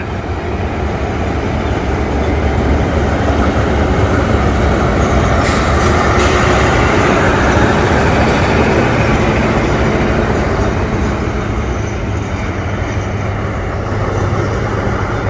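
A Thai railway diesel locomotive with an MTU engine rumbles loudly and steadily nearby, a deep mechanical drone with a brief higher clank midway.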